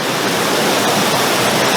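River water rushes steadily through a canyon in Zion National Park, a loud continuous broadband wash close by with no voices over it.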